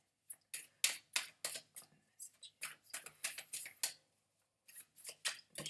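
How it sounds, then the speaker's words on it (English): A deck of tarot cards being shuffled by hand, a run of quick crisp riffling bursts in uneven rhythm, close and fairly quiet, with a short pause near the end before the shuffling resumes. "just going to shuffle these cards for you"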